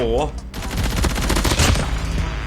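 Rapid bursts of M13 rifle fire with the Liminal Flare skin in Call of Duty Mobile, loud and dense, with a brief voice at the start.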